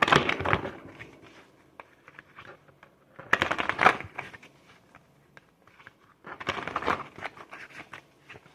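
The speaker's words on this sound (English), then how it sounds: "Let's shuffle." Cards being shuffled in three quick bursts of riffling and flicking, separated by quiet pauses, close and fairly soft.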